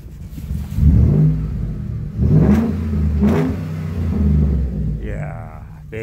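A Ford F150 pickup's 5.0 engine cranks, catches and revs several times in deep rumbling bursts, close by, in a repair workshop, with a brief voice near the end.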